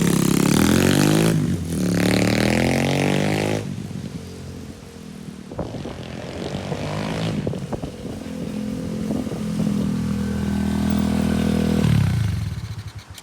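A cheap Chinese pit bike on a test ride, its small engine revving loud and close, dropping and rising repeatedly with buzzy throttle blips and a clattery idle between runs.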